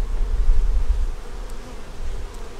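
A close, loud swarm of honey bees hums over a brood frame from a hive, the low buzzing swelling and easing in waves with no talk.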